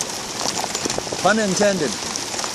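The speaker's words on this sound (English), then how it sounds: "Yeah, hail. Can you believe it, eh?" Hail falls on a boat in a steady patter of hits across the whole stretch. Someone speaks briefly in the middle.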